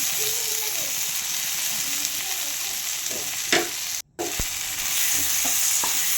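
Grated ginger is stirred into fried onions for prawn malaikari, producing a continuous close sizzle with scraping spatula strokes and a brief dropout midway, with no voices.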